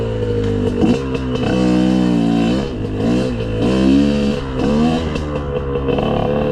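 Dirt bike engine on a solo weekend trail ride, loud and close, revving in rising and falling surges with mechanical clatter throughout.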